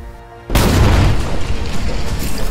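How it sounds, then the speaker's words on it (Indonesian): A sudden heavy boom as a giant monster bursts through an ice surface, then a loud sustained roar and rumble of crashing debris. "Dengan ledakan dahsyat, seekor monster raksasa menerobos permukaan es."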